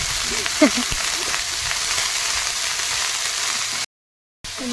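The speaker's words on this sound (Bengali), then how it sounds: "কপিটাও একটু ভেজে নিচ্ছি হালকা করে" Cabbage frying lightly in a pan for khichuri, giving a steady hissing sizzle throughout with a brief voice and a short gap near the end.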